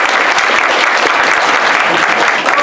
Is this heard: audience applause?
yes